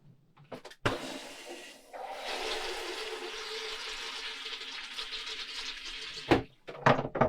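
A camper toilet flushes with a steady rushing of water for several seconds, close and moderately quiet, framed by a few clunks and knocks before and after.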